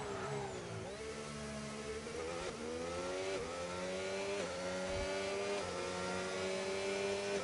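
A McLaren race car engine in a racing video game at a Baku street circuit, revving high and continuous with repeated gear-shift dips and rising pitch, steady and close with no voices.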